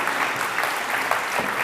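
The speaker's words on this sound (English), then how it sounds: "Round of applause for Ken Burnett." A conference audience claps in a dense, even wash of applause that holds at a constant level throughout the brief moment.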